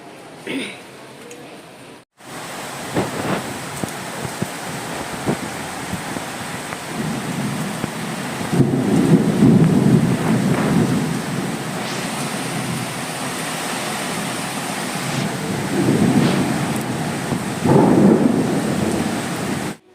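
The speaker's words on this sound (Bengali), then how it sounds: "আমার ফেসের মধ্যে বৃষ্টি ছিট আসতেছে" Heavy rain pours steadily while deep rolls of thunder rumble several times, swelling and fading; the rain continues loud and unbroken.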